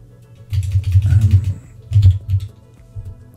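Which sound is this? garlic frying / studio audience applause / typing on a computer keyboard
typing on a computer keyboard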